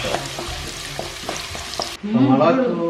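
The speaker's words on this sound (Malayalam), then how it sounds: "ആദ്യം കുറച്ച് വെളുത്തുള്ളിയും ഇഞ്ചിയും കൂടി എണ്ണയിലിട്ട് മൂപ്പിച്ചു" Garlic and ginger frying in hot oil in a pan, with a steady sizzle, a few stirring clinks, and a louder burst of crackling frying near the end, no talk.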